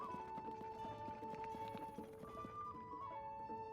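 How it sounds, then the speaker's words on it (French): Rhythmic clip-clop of horse hooves at a quick pace over steady game music in Zelda: Tears of the Kingdom, with no one speaking. "Évidemment non, mais je peux prendre mon cheval."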